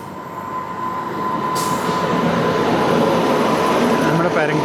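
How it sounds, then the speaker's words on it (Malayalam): Jan Shatabdi Express from Mumbai CSMT to Hingoli, hauled by a Kalyan shed locomotive, rumbles past loud and steady with continuous wheel and carriage noise, a faint high tone running underneath. "അതായത് മുംബൈ CSMTയിൽ നിന്നും ഹെങ്കോളിയിലേക്ക് പോകുന്ന ജനശതാബ്ദി എക്സ്പ്രസ്"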